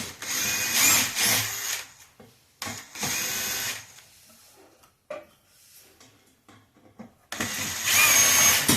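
Power drill backing Phillips screws out of a ceiling fan during demolition, three loud whirring bursts separated by quieter pauses with small clicks, close up and alone.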